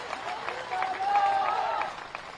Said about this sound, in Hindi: तो जीत की जरा जोरदार तालियां बजाकर उनको आशीर्वाद दीजिए।